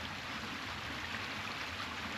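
A creek on a cattle farm runs with a steady, low, continuous rushing flow, faint and unbroken, with no voices over it.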